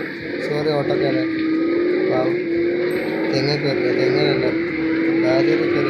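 Engine of a Defender driving past in a video game, a continuous motor hum with shifting revs under someone talking over it, steady and fairly loud throughout.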